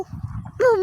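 A dog near an elephant gives a short, high whining yelp at the end of a brief stretch of low shuffling noise.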